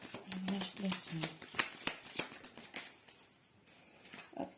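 An oracle deck by Isabelle Garcia is shuffled by hand in quick, papery riffles and taps, close and soft, with a quiet voice briefly present near the start.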